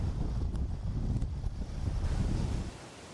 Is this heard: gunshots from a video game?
no